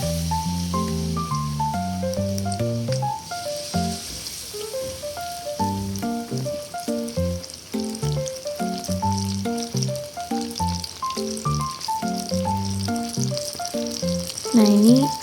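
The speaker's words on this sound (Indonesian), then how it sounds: "ini lagi coba minyaknya dulu emang udah panas, terus baru masukin samarindanya" Samarinda snacks frying in already-hot oil over a high flame, a steady sizzle running throughout beneath tuneful background music.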